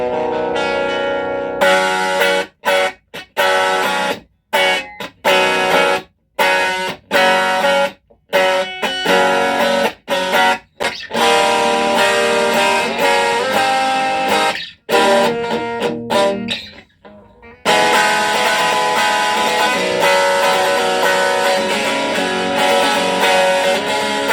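Distorted electric bass through a DIY distortion pedal with clean blend plays chords and notes in bursts separated by short silences, gritty and saturated but with clear note definition.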